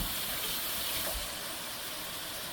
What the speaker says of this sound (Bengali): দেওয়ার সাথে সাথে ভীষণ ফুটে তেল